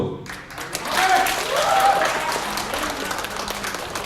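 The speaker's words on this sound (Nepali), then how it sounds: "उहाँलाई जोरदार तालीले स्वागत गरिदिनु हुन म हार्दिक अनुरोध गर्न चाहन्छु" A crowd applauds, the clapping swelling quickly and then holding at a steady level for several seconds, with a voice briefly audible through it.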